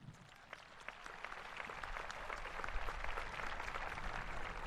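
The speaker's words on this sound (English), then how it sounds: "If we can have a round of applause for them, please." Round of applause from a crowd at a Ventura High School commencement, starting faint and swelling into a steady, distant-sounding patter of many hands.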